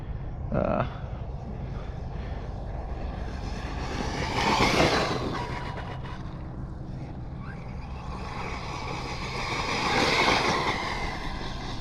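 A Team Corally 4S RC buggy fitted with spongy truggy tires makes a high-speed run, rushing past in two louder swells over steady, broadband outdoor noise.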